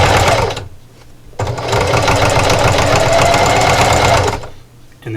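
Sewing machine stitching a grippy jar opener, loud rapid mechanical whirring in two bursts separated by a brief pause, close up with no talking.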